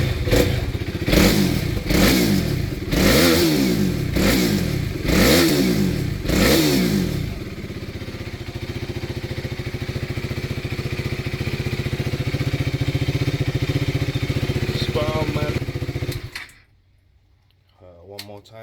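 A motorcycle with a swapped-in KTM 390 engine runs close by, first blipped through a string of sharp revs, then settling into a steady, slightly clattery idle before being cut off near the end.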